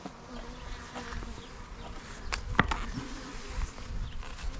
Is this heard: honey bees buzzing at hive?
yes